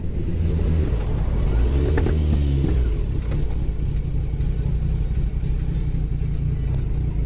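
A motorcycle engine rumbles continuously nearby, rising in revs with a throaty mid-pitched drone that holds steady throughout.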